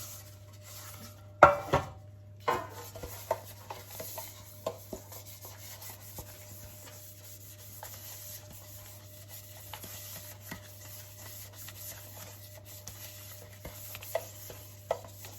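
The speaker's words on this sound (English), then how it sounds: "I'm using some vegetable oil to grease my bun tin." Kitchen sounds of a non-stick bun tin being greased with vegetable oil and bun mixture poured in: scattered soft rubbing, light metallic clinks and taps, one sharper clatter early, over a steady low hum, with no talk.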